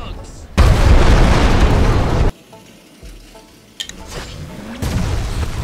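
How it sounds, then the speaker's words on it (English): An explosion in the video game Goat Simulator 3, a loud, close, roaring blast that rumbles for about a second and a half and then cuts off, followed by quieter game sounds and someone talking. "whenever I want something to explode, it shall explode"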